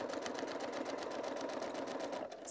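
Sewing machine stitching foundation paper piecing, a fast even mechanical rattle running steadily and close by, easing slightly at the very end.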